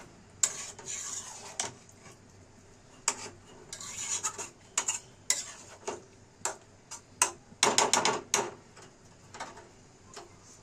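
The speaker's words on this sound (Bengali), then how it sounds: "এখন ভালোভাবে এটা নেড়ে চেড়ে করতে হবে" Chicken curry in a pot with added broth, stirred with a metal spoon: sharp clinks and scrapes against the pot come in irregular bursts, clustering densely near the end, over a quiet background.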